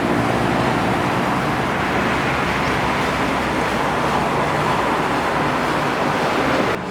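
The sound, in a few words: busy Bangkok street traffic noise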